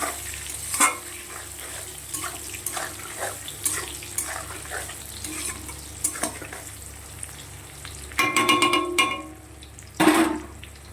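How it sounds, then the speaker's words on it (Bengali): Pieces of eggplant fry in oil in a kadai until browned, with a soft, continuous sizzle punctuated by scraping stirs and clinks, then louder bursts of spattering near the end. "বেগুনগুলোকে একটু লাল লাল করে ভেজে নেব।"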